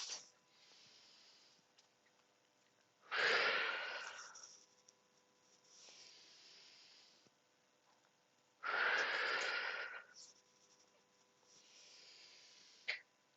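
Slow, deep yoga breaths taken in a quiet room: two long, strong exhales a few seconds apart, each followed by softer inhales, close to the microphone and without talking.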